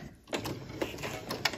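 A sewing machine back stitching through vinyl on a zipper pouch, giving a short run of quick, close mechanical stitching pulses with a few sharper clicks.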